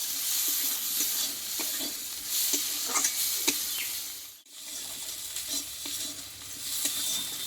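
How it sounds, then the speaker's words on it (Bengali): Chopped coriander leaves being stirred into sizzling masala in a pan while cooking tilapia fish curry, with steady frying hiss and repeated scraping stirs, close and continuous with a brief dip midway. "এই ধনে পাতাটা দিয়ে আমি কিছুক্ষণ নাড়াচাড়া করে নেবো"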